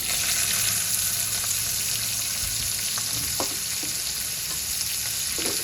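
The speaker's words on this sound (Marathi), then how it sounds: "आपण यावर कांदा घालूया" Onion frying in oil with mustard seeds, cumin, asafoetida and crushed garlic for kanda pati bhaji, a loud, continuous close sizzle with a few stirring knocks.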